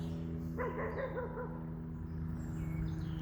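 A puppy outdoors in a Southern garden gives one short, high, wavering yip-bark near the start, fairly faint, over a steady background hum and no talk.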